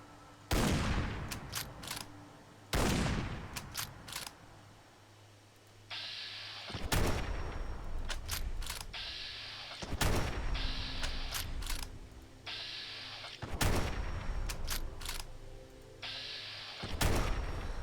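An AMR 3000 anti-material rifle firing in Fallout 4: about seven heavy, booming single shots spaced a couple of seconds apart, each loud and sharp with a long rumbling tail, mechanical handling noises between them.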